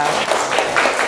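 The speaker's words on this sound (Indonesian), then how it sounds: "tepuk tangan untuk kita semua" A class of young schoolchildren clapping together in a classroom, a dense, steady patter of many hands held briefly at fairly loud level with no pause.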